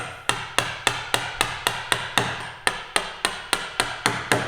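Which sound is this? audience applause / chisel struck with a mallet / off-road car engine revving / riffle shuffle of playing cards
chisel struck with a mallet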